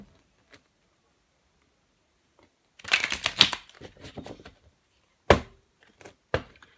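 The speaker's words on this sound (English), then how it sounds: "I'll give them a really good shuffle." Playing cards being shuffled nearby after a quiet pause, a busy flurry of riffling, then two sharp separate snaps of the deck.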